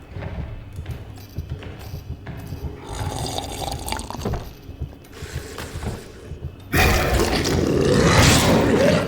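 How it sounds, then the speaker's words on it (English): Liquid sounds in Amnesia: The Bunker as a glass of water is drunk: soft sloshing and gulps amid low rumbling ambience, ending in a louder, rushing wash of water. "Have a quick tactical glass of water."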